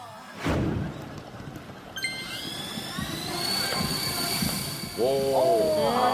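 A homemade coaxial-rotor model of a Mars helicopter drone spins up: a thump, then a rising motor whine that settles into a steady high tone, with voices joining near the end.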